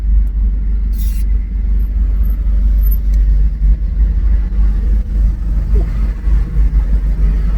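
A BMW fitted with an AWE aftermarket exhaust idles with a deep, loud, close rumble, its burbling note pulsing unevenly with small throttle blips throughout, and no talking over it.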